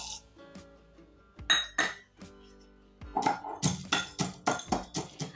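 Peeled peanuts are pounded in a mortar for a stuffed bitter gourd masala: sharp, hard knocks, a few spaced strikes at first, then a quick steady rhythm of pounding, close by with no voices.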